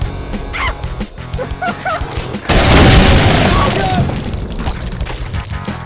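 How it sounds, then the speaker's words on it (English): A green barrel explodes in the Brutal Doom video game, a sudden loud boom that bursts in midway and rumbles on, after earlier game sounds and squeals, with a voice audible in the mix. "As its head exploded, I accidentally hit a green barrel."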